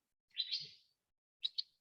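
Two short bursts of bird chirping, a longer trill followed by a brief double tweet, fairly faint and with no talk over it, heard in a quiet indoor setting during an online class.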